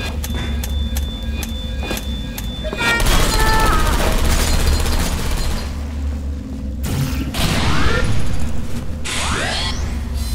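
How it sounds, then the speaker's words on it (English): Sentry turrets in the video game Portal Stories: Mel open fire on servers, a loud sustained burst of rapid gunfire with whooshing and crashing debris, swelling in two waves over a steady mechanical hum. "The turrets are shooting the servers!"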